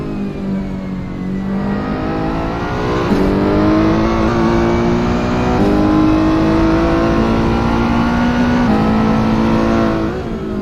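A Ferrari 488 race car engine in a night race at Sebring in a racing game, droning steadily at high revs with several gear shifts marked by brief dips and climbs in pitch, loud and continuous.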